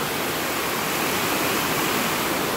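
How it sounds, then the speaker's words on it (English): A waterfall on the Bears Lake Trails in Halifax pours steadily, a dense, even rushing roar that fills the whole stretch without pause, close and loud. "The waterfall is a-flowing today."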